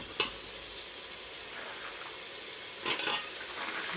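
Biryani masala with chilli powder sautéing in hot oil, a soft continuous sizzle close by with two brief louder stirring scrapes, no voices.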